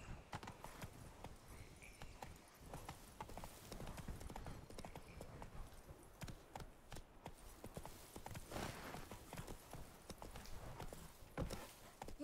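Roach the horse trots through Toussaint in The Witcher 3: Wild Hunt, hooves clip-clopping in a steady, continuous rhythm over a constant bed of game ambience.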